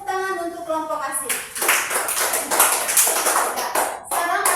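Classroom applause for a student group during group presentations, clapping from a small group of students rising after a brief stretch of tonal sound and continuing steadily near the listener, with voices mixed in.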